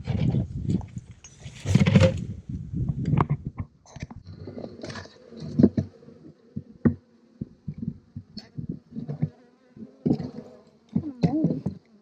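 Honey bees buzz around an opened horizontal hive during an apiary inspection, a close, uneven hum rising and falling with scattered clicks and knocks of handling.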